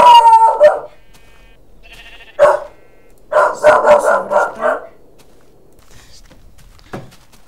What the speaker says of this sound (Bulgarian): Тук съм отново, кучето ми почина да лае.